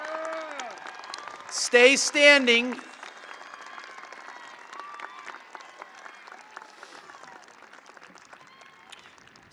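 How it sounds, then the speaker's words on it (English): At a 2022 high school graduation ceremony, the crowd applauds graduates who are entering the armed forces. A voice briefly calls out near the start, then sustained, crackling applause continues at an even level to the end. "Let's give these graduates a round of applause."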